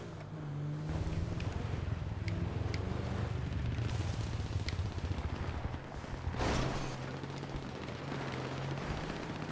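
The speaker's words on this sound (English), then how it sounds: "I'm hearing a substantial amount of gunfire out there." Scattered bursts of GTA Online gunfire crackle in the distance over a steady low rumbling drone, with one louder burst near the end.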